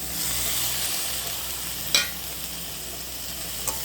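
Carrots, beans and chopped tomato sauté in a pan, giving a soft steady sizzle with a couple of sharp spatula scrapes or clinks, one near the middle and a fainter one near the end.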